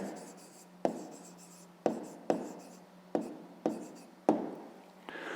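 Pen writing on paper in short repeated strokes, each starting with a sharp scratch and trailing off, about six strokes close up and fairly faint in a quiet room.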